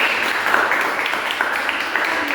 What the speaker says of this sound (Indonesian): tepuk tangan kepada Roman.